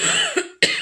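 A single person gives a short cough, a quick double burst with a brief throat sound between, close and alone in a quiet room.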